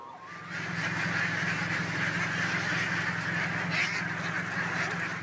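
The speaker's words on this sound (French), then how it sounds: "il n'est plus rare d'apercevoir de grandes fermes de canards" A large flock of ducks on a big farm fills the air with dense, continuous quacking and honking. The sound is loud and close and runs throughout with no talk.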